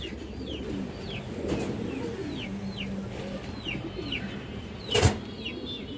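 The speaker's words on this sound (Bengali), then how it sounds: "এটা কালো গলা মাদি কবুতর" A black-necked female pigeon coos low among other birds chirping in short, repeated calls nearby, with a soft rustle and one brief flap or bump near the end.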